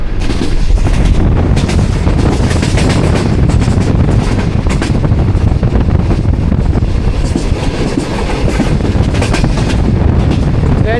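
A passenger train on the Lahore–Rawalpindi line runs close by while overtaking, giving a loud, continuous rumble with rail clatter and wind buffeting throughout, and no voices.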